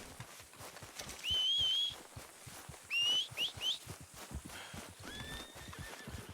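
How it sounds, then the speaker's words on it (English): In the video game Red Dead Redemption 2, a horse gives several loud, shrill whinnies over a background of hoofbeats and outdoor ambience. "Come on, horse, get over here."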